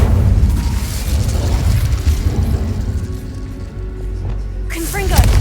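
Incendio fire spell cast in Hogwarts Legacy, a sustained roaring burst of flame that runs for several seconds under a dense game soundscape, with a brighter crackling flare near the end.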